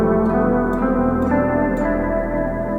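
A musical passage in the E Phrygian mode, a dense sustained harmonic texture with faint rhythmic accents about every half second, steady and moderately loud with no voices.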